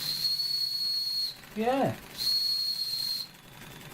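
Steady high-pitched whistle from an Airosol Model 301 toy steam engine, sounding twice in long even blasts with a short gap, over a soft steam hiss, and a brief spoken word between them.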